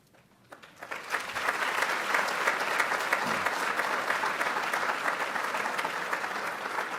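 Audience applause welcoming a speaker to the podium, starting quietly then swelling within a second into steady, sustained clapping from a large crowd that continues evenly to the end.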